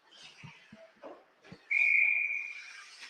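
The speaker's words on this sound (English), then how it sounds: "it just rolls to Lubelchik, who will hold it for a whistle here." A referee's whistle blows one long shrill blast at a boys' ice hockey game, loud and sustained for about a second before tapering, following scattered rink thumps and faint crowd noise.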